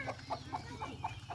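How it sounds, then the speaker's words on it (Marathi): Chickens, a rooster and hen, cluck in a quick run of short clucks at a steady rhythm, fairly faint and close by with no voices over them. "पकडा पकडी खेळत आहेत. कोंबडा कोंबडी"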